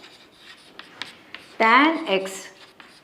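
A pen scratches and rubs across paper while a trigonometry solution involving the tan function is worked out, faint intermittent strokes running beneath a man's explanatory speech.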